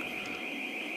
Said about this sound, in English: Buzzer is going off.